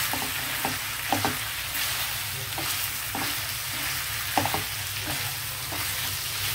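Chicken fry with coriander sizzles steadily in a pan as it is stirred, the close hiss punctuated by regular scraping knocks of the spoon, with no voices.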